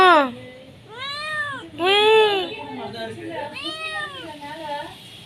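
Cat giving a series of drawn-out, whining meows, four or five loud plaintive calls spaced a second or so apart, close by and fairly clear.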